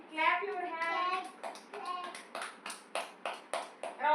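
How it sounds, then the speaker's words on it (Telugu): A child claps hands at home in a steady run of about eight sharp claps, close and fairly loud, following a stretch of a woman's sing-song speaking voice. "Clap your hands."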